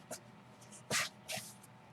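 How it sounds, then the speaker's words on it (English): Cooking spray from a can, a few short hissing bursts in a quiet kitchen, one longer burst in the middle and a shorter one after it. "you can use cooking spray"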